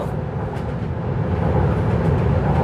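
Steady, close rumble and rolling drone inside a moving driverless train, continuous at an even loudness with no voices.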